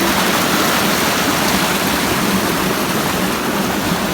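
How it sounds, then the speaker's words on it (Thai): A waterfall in upland rice-farming hill country gives a loud, close, steady rush of falling water that roars without a break for several seconds, with no talk. "ดูน้ำตก"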